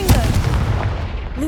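A Confringo blast spell cast in Hogwarts Legacy, a sharp booming burst up front followed by a short crackling tail, loud and close, with game effects around it.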